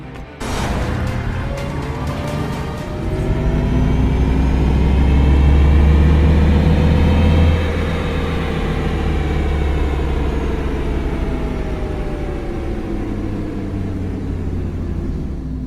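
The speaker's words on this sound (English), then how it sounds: "Audi seems to be very proud of their fake engine noise, which they have designed to enhance the driver's experience." An Audi e-tron electric car plays its synthesized engine sound, a smooth low hum that swells in pitch and volume like acceleration, peaks, then settles into a steady drone, with no one talking.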